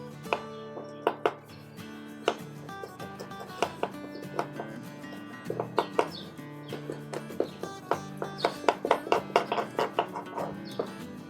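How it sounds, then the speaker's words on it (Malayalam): Repeated knife chops on a board as a fish is cut into small pieces, irregular sharp knocks at close range, with no talking over them. "മീനൊന്ന് ചെറുതാക്കി കട്ട് ചെയ്യാം."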